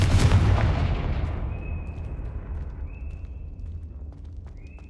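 A Confringo fire spell bursts in the Hogwarts Legacy video game: a loud, booming blast that rolls off into a long, rumbling decay, with faint high tones ringing afterward.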